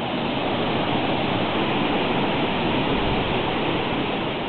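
Tetewa waterfall in East Kolaka, Indonesia, roaring as a steady, dense rush of falling water, loud and continuous throughout with no voices.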